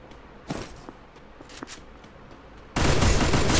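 Gunfire from the video game Free Fire: a few sharp isolated shots early on, then a sudden loud sustained burst of dense firing filling the last second, with no voices.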